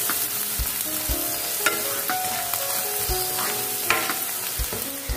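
Onions with salt sauté in a hot pan for a fish curry, giving a steady close sizzle with occasional scrapes and clicks of a spoon stirring.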